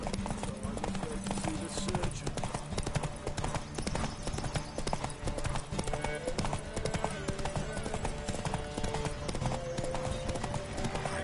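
Horse Roach galloping in a race in the game The Witcher 3, a fast, continuous drum of hoofbeats that stays steady and close throughout, with voices heard over it.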